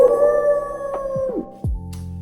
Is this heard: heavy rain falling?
no